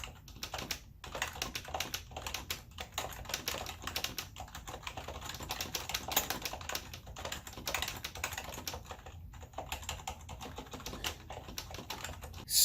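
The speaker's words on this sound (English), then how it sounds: "Here's like an old dome keyboard from like the 90s or early 2000s." Rapid, soft clacking of keys on an old 1990s or early-2000s rubber dome keyboard, steady continuous typing close to the microphone, fairly quiet and muted.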